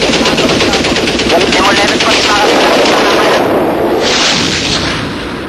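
Loud, dense bursts of rapid gunfire play without a break in Israeli aerial combat gun-camera footage, with rattling staccato fire and booming blasts that fade slightly toward the end.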